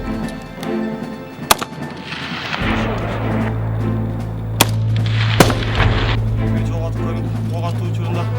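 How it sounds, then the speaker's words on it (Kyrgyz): At a military shooting drill, Makarov pistols and AK-74 rifles fire three sharp, widely spaced shots over a low rumble while people talk throughout. "пистолет Макаров тапанчасы жана АК-74 үлгүсүндөгү куралдардан ок атуу өткөрүлүп жатат"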